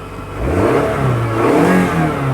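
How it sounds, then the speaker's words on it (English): A Toyota RAV4 engine runs and revs steadily, a low, throaty rumble that swells and holds, close by, with no voices; the battery warning light is on. "As you can hear, the engine is running"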